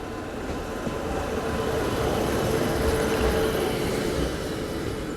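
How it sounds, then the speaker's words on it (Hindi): A train passing through Barabanki Junction railway station, with a loud continuous rumble and rattle of wagons that holds steady close by from start to finish. "कोई तो ट्रेन जो है वो क्रॉस भी कर रही है मेरे ख्याल से इसको"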